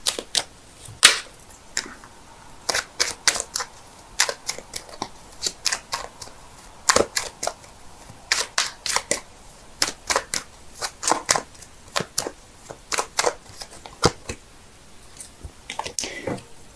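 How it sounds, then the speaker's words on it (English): A deck of tarot cards is shuffled by hand in crisp, irregular bursts of riffles and taps, close and fairly loud, with no talking. "give me a sec while I shuffle"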